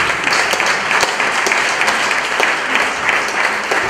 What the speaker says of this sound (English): if you can clap your hands